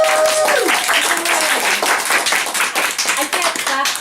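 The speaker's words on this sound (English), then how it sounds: "can we have a round of applause for our amazing host" An audience at an Olympia music venue claps for the host, a dense, steady burst of applause filling the room throughout, with a few voices and whoops mixed in.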